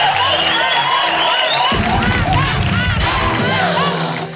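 Comedy club audience cheering and hooting, loud and close, with high whistles and whoops over a dense roar of shouting and clapping that swells midway and continues to the end.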